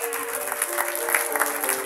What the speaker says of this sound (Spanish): Dele otro aplauso al Señor, que esas palmas suenen.